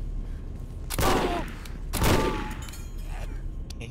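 Two loud gunshots from the horror video game Condemned: Criminal Origins, set in a subway, ring out about a second apart, each with a sharp crack and a decaying echo over a low background rumble.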